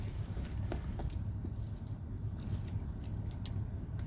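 Office keys jangle in short, bright metallic bursts while someone rummages, close and intermittent over a low background hum, with no speech.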